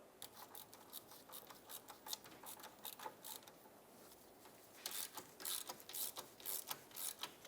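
Hand ratchet snugging the hub bolts on a Jeep Compass rear wheel bearing assembly, a quick run of fine clicking bursts up close, pausing briefly and then resuming in rapid repeated strokes.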